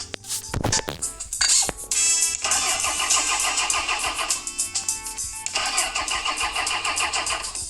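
A car engine in the video game Retro Garage: Car Mechanic cranks with a few sharp bursts, then catches and runs at a loud, steady idle that wavers slightly, with no talking.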